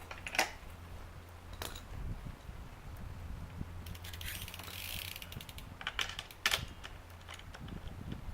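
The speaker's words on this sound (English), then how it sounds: "Tighten my wheel real quick." A BMX bike wheel being tightened, with scattered metallic clicks and short ratcheting bursts from the tool, fairly quiet against a low background hum.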